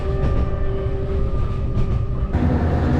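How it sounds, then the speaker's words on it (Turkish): An old passenger train rumbles steadily along a line in Vietnam with loud, continuous low-frequency roar and a few tonal whines, and the sound shifts abruptly partway through. "Bindiğim en kötü en eski tren şu ana kadar."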